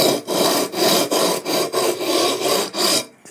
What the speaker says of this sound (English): So to level the frets, I'm just going to use my precision leveling bar that I got from LMI. I've got some 3M gold sandpaper just stuck to it.